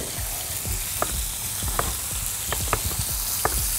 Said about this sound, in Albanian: Edhe i hedhim direkt në tigan.